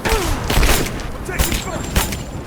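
Gunfire in the video game Rise of the Tomb Raider, a scattered burst of shots and thuds crackling under shouting voices from enemy soldiers.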